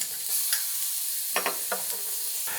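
One large clove of finely minced garlic, grated on a rasp, sizzles in a pan for chicken piccata: a soft, steady frying hiss broken by a few brief stirring scrapes.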